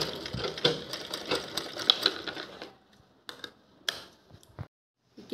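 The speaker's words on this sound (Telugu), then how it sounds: "ఇక్కడే మార్క్ పెట్టుకున్న చోటుకి స్టిచ్ చేసి ఆపేసుకోవాలి" A sewing machine stitches a reused plastic shopping bag in quick mechanical bursts, a steady run of needle strokes followed by a few short spurts with pauses between.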